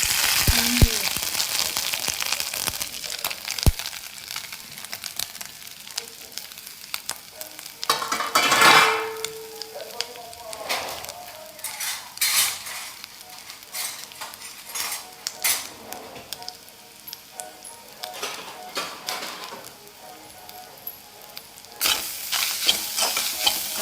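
Coconut pieces stir-fried in ghee in a pan, with continuous sizzling and frequent scraping and clinking of a spatula against the metal, loud and close.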